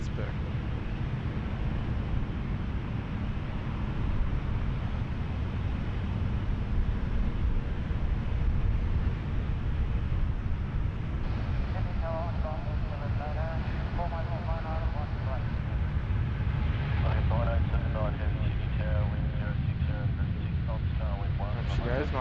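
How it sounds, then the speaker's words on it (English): Qantas 63 heavy airliner rolling for takeoff at Sydney Airport, bound for Johannesburg, a constant low rumbling roar with wind buffeting, while someone talks over it in the second half. "Nice heavy takeoff roll, as per usual."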